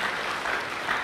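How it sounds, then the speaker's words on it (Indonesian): Church congregation clapping during a sermon, a steady dense patter of many hands filling the whole moment at moderate loudness with no voices over it. "Berikan tepuk tangan dia meriah betul."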